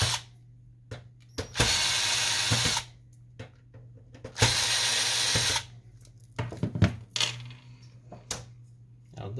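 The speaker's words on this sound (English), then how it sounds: "In order to pull out the carriage unit, we're going to remove 4 screws" Screws are driven out of the carriage of a Canon Pixma MX922 printer with a power driver: two long, loud whirring bursts, with lighter clicks and handling knocks between and after them.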